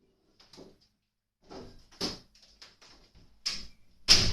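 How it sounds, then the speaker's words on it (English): A studio door being closed: a few scattered clicks and latch rattles, then a sharper, louder knock at the end, close by in a quiet room. "Let me close my studio door"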